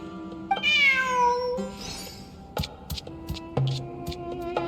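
A cat in Genshin Impact gives a clear, drawn-out meow followed by a few shorter mews and small clicks, close and alone with no talking.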